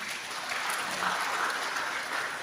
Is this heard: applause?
yes